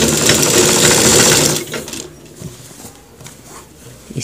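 A sewing machine stitches a cross pocket on a pair of trousers, a loud, steady whirring run for about a second and a half that then stops, leaving quieter handling noises.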